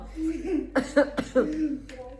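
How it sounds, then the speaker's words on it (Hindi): A person coughing in a few short, harsh bursts close to the microphone, with throat-clearing sounds and some speaking voice around them. "खांसी आ रही इतनी ज़्यादा"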